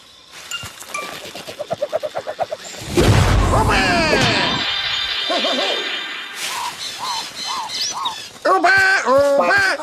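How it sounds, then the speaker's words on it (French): A cartoon plant shoots out its seeds like a cannon: a sudden booming burst and crash, followed by whooshing and popping sounds, set among cartoonish chirps and squeaks. "Elle propulse ses graines au loin comme un canon"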